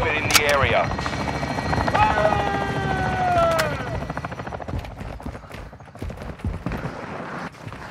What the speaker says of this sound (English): Cargo helo is inbound.